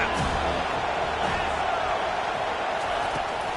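A stadium crowd at a college football game roars in a steady, dense wash of cheering that lasts throughout, loud and continuous with no clear breaks.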